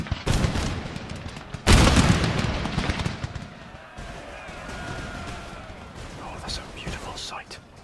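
Musket volleys fired rank by rank by massed line infantry in the Empire: Total War strategy game, loud crackling bursts near the start and around two seconds, then a lower rolling rumble with a few sharper pops.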